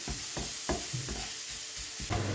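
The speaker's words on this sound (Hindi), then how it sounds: "1 टेबल स्पून कुटा हुआ लहसुन। इसको थोड़ा सा 1 मिनट के लिए सौटे करेंगे" A tablespoon of crushed garlic sautés in a hot pan, a steady close sizzle broken by a few sharp spatula scrapes and stirs at regular intervals, with no talking.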